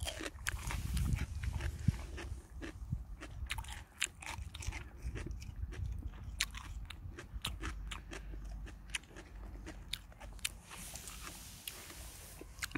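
A Jindo dog bites and chews a red radish up close, with sharp crunching bites in an irregular rhythm over wet chewing and faint background hum.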